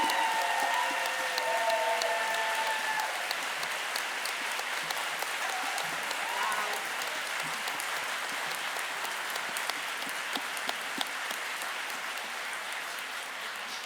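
Sustained audience applause fills a conference hall at an opening session, a dense wash of clapping that stays steady and fairly loud before tapering slightly toward the end, with no talking over it.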